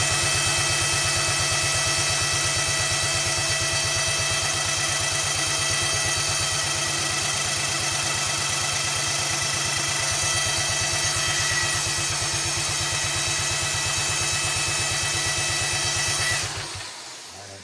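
Kohler engine on a Wheel Horse tractor being cranked to start, a steady rapid mechanical churning with a constant whine that runs without catching for many seconds, then cuts off abruptly near the end.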